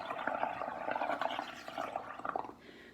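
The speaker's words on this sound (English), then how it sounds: "I have milk in here, and it doesn't make as big as bubbles, but certainly can work, at least make some bubbles for them." Bubbles are blown through a straw into milk in a bowl, a soft, gurgling burble of rapid pops that rises and falls, close and fairly quiet, then stops near the end.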